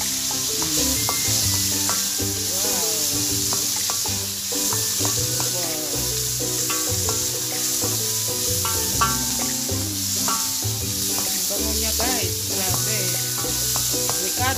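Aromatics are sautéed and stirred in a hot pan as the base for an Ilocano mung bean stew, with loud, continuous oily sizzling and scraping of the utensil, layered under background music.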